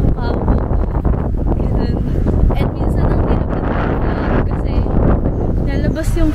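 Strong wind buffets the microphone outdoors in Osaka on a cold day, a continuous loud rumbling roar with people talking faintly under it.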